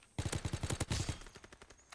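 Rapid automatic gunfire in a shooter video game, a close burst of roughly a dozen quick shots that tapers into fainter, scattered rounds.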